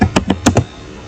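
Ctrl C pressed on a computer keyboard during Linux server setup, four or five crisp, loud keystrokes in a quick cluster, close up, with no voice.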